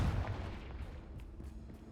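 A Confringo fire spell explodes in the video game Hogwarts Legacy, one deep booming blast up close that fades out over about two seconds, with no talking.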